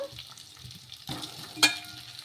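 Small goli idli stirred in hot oil in a pan, a soft low sizzle with scraping stirs, a louder burst of frying around the middle and a brief sharp clink after it.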